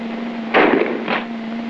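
Two muffled shotgun reports sound at a military skeet range, the first louder and the second softer about half a second later, over a constant electrical hum from an old film soundtrack.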